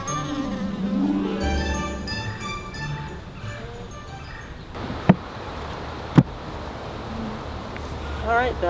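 A steady honey bee buzz hums close by around a hive, like bees swarming, with voices talking over it and a couple of sharp taps.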